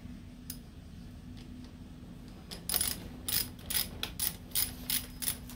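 A bolt is tightened on the lever of a Kawasaki Balius motorcycle during a clutch lever replacement. Quiet, close bursts of quick ratcheting clicks come in irregular groups over a low hum.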